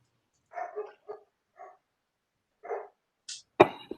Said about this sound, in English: on the left-hand path, you hear dogs